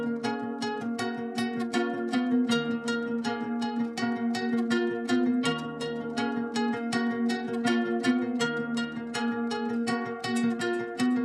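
Electric guitar plucking a rapid, repeating melodic pattern processed with chorus and delay for a hip-hop beat, even and rhythmic, fairly quiet and heard alone.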